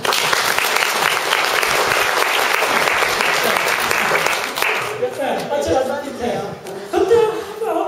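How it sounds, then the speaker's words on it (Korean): An audience at a particle physics lecture on cosmic evolution bursts into dense, sustained clapping that fades after about five seconds, leaving a lone voice talking with light crowd murmur. "자, 박수 쳐주세요."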